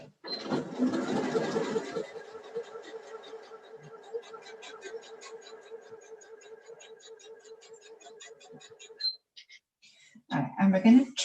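Domestic sewing machine stitching a fabric herbal drawer freshener, a steady rapid mechanical rattle running for several seconds after a louder start, then stopping, with brief handling noise near the end.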